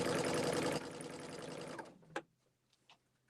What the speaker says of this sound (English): I think I'm about to sew something on wrong